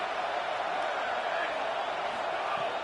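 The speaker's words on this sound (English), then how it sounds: "This crowd ready to make its presence known" A large football stadium crowd at an Alabama game roars in a steady, distant wash of noise that fills the whole moment without breaks.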